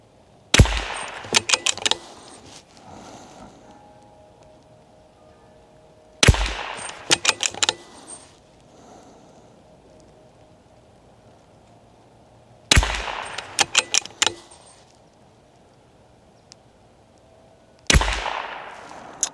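An Anschütz Fortner 1727F rifle fires four evenly spaced bursts of sharp, loud cracks, each a quick cluster of reports. Quiet gaps fall between the bursts at a shooting range.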